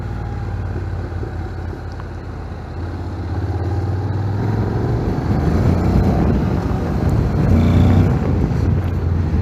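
A 2025 Honda NC750X DCT motorcycle engine accelerates under throttle, its low drone rising steadily in pitch and loudness through wind rush during the ride, with no talking.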